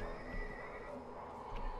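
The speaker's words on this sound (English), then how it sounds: "Hey, horse." A horse whinnies in the video game BioShock Infinite, with faint hoof clops and ambient sounds around it.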